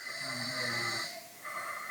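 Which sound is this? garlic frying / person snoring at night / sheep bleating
person snoring at night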